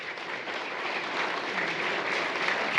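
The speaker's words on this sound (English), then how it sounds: "Everybody give them a round of applause." Crowd at a Big Buck Night event applauds a group, a steady moderate wash of clapping from many hands sustained throughout without speech.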